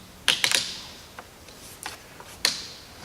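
Grip clamps being set on a freshly glued wooden bow limb: a quick cluster of sharp clicks and ratchet snaps, then sparser single clicks spread out, close and fairly quiet, with no talking.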